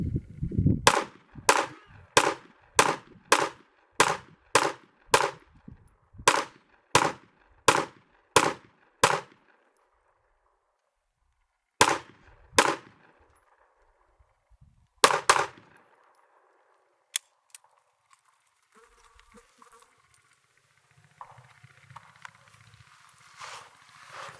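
Pistol shots from a Smith & Wesson M&P 2.0 Metal Carry Comp, a fast string of about fourteen sharp, loud reports close by, then after a pause a few more scattered shots, followed by faint handling noise.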